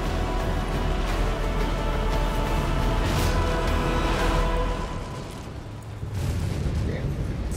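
A ship-mounted gun on an Anvil Valkyrie dropship fires in Star Citizen, booming blasts over a low engine rumble, with bursts continuing through most of the stretch and a brief lull near the end.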